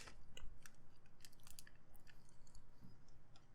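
Crunchy crickets being chewed close to the mouth, with steady rhythmic crunching and bursts of crisp crackle repeating throughout against a quiet background.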